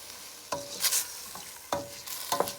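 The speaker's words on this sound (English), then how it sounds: "We're going to mix the rice with the onions." Washed rice is stirred into frying onions in a pan, giving a few scraping strokes of the spoon against a soft, steady sizzle, close and moderately quiet.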